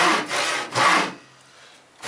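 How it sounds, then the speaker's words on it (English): A hand saw cuts through wood in two strong back-and-forth strokes, close and fairly loud, followed by a quieter pause before another stroke begins, with no talking. "I'm sawing away the bulk of the material, staying a 1/16 of an inch away from that knife line."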